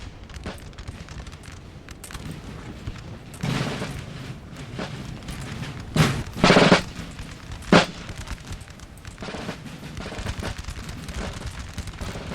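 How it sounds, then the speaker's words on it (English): Musket volleys in the video game Napoleon Total War, a multiplayer battle: ragged bursts of distant gunfire crackle over a steady battlefield din, with one louder, drawn-out volley and a sharp single report standing out mid-clip. "Not the most organised of volleys, that's for sure."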